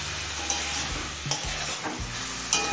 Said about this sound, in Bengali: এবারে ঝোলটা কমে আসা পর্যন্ত হাই ফ্লেমে রান্না করব।